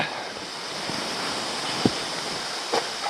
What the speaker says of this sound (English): There are a couple of actually decent sounding waterfalls just in there